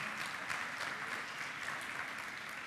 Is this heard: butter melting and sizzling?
no